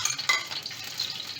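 Curry leaves dropped into hot oil for fish curry, giving a steady close sizzle and crackle with a brief louder burst near the start, plus faint stirring.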